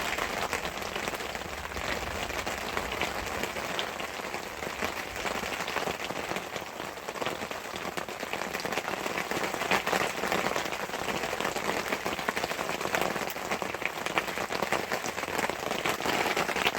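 Heavy rain drums loudly and steadily on a shelter overhead at a mountain camp, a dense unbroken patter filling the whole stretch with no voices.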